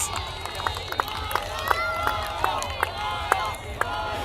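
A capacity crowd at a professional beach volleyball match cheers and roars in the background, with sharp claps and shouts popping out while a commentator talks over it.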